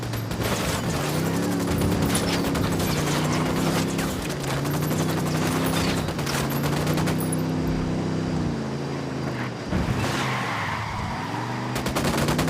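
Gunfire crackles in Ghost Recon Wildlands over droning vehicle engine noise, loud sustained shots running throughout the clip with no speech.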